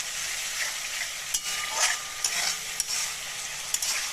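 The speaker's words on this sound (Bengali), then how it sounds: "এবার আমি খুব সুন্দর করে এটা দু মিনিট ধরে কষাবো" A spoon stirs okra and gram flour curry as it fries in a pan, a steady close sizzle punctuated by several sharp scraping strokes against the pan.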